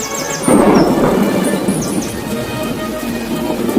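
Thunder in a cartoon about a bird family waiting out a night of rain: a heavy rumbling burst hits early and slowly fades. Steady rain noise runs underneath, with a few high chirps above it.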